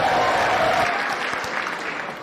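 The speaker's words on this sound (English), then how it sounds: "Thank you for that very generous applause." Audience applause at a live political talk show broadcast, a dense steady wash of clapping from a crowd that fades slightly toward the end, with no voices over it.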